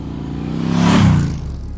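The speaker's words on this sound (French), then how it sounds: "je monte sur ma moto et je fonce dans sa direction" Motorcycle sound effect for a French audio drama: an engine revs up and swells to a peak as the bike pulls away, then fades, with a steady rumbling drone throughout.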